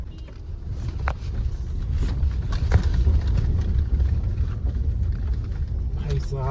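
Tata Safari rumbling and jolting over a broken, roadless mountain track, a loud low engine drone with knocks and rattles from the rough ground, under steady talk from people inside the car.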